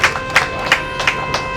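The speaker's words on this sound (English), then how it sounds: "I think he deserves a round of applause for that" People clap for the NUJ chairman at an indoor commissioning event, a few sharp, close claps in an uneven rhythm over a faint steady hum.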